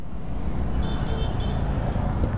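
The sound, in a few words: vehicle horn honking on a motorcycle ride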